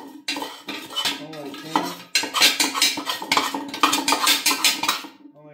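A metal tool scrapes waste oil residue out of a container, a series of close, harsh rhythmic scrapes and clanks in uneven strokes, with brief pauses between them.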